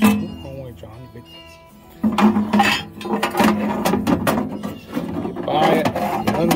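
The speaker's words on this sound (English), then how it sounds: "we've got to put our grate back on" A metal grill grate is set back into place inside a Traeger pellet grill, giving a loud clattering clank at the start followed by repeated scraping, knocking metal contacts under talk.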